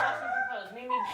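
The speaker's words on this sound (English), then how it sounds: "The dog would be whining in the background," A dog whines and whimpers in the background of a home, a brief high, wavering cry that stays fairly faint.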